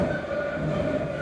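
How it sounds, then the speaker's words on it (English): Steady low rumble of an MBTA Blue Line subway train in motion in Boston, heard from inside, with a faint tonal whine riding over the continuous interior noise. "Once I've entered the train, we quickly start going."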